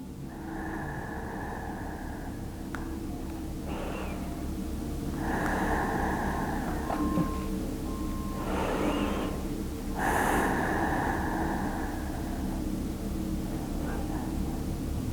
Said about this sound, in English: 7 more breaths here.